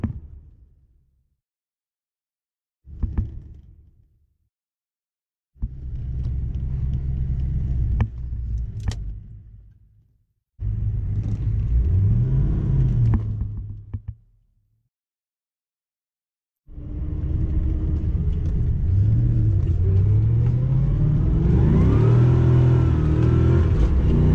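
A 1990 Chevy Corvette C4 accelerates hard in first gear, its engine roaring in loud repeated bursts separated by silences, the last run long and rising in pitch, heard close by.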